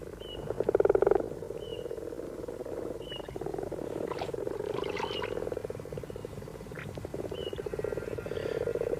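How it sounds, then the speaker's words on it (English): Male frogs croaking at a pond in a daytime chorus: repeated rasping, purring croaks from several animals, one loud burst near the start, with occasional chirps and calls overlapping throughout. "The males appear at the pond first. Only they croak."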